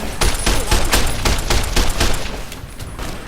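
Rapid gunfire in Fallout: New Vegas, a loud, close burst of roughly a dozen evenly spaced shots that rattle steadily for about three seconds, with no talk over them.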